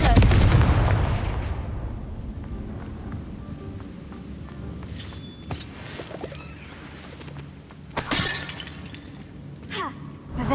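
A Confringo blasting spell in Hogwarts Legacy goes off with a booming explosion at the start that fades into a long rumble, followed by sharp crackling, shattering bursts later.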